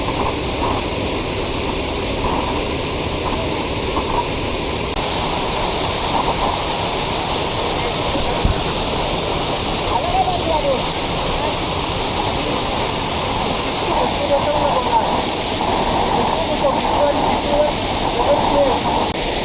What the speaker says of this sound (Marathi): वर पाऊस पडतोय त्याच्यामुळे होतंय कसं माहिती आहे का, पाणी वाढत वाढत चाललं आहे.